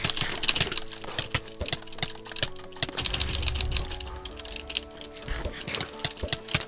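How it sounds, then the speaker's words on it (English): Rapid clattering keystrokes on a loud computer keyboard, close and continuous with uneven bursts of clicks and a brief low rumble partway through. "Sorry for the loud keyboard"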